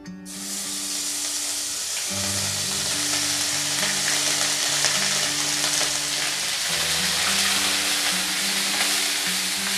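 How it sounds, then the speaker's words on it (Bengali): Onion and ginger paste fry in hot oil with a loud, continuous sizzling hiss that stays steady throughout, while a tonal melody plays underneath the crackle. "আদা পেঁয়াজটা আমি ভালো করে একটু ভেজে নেব"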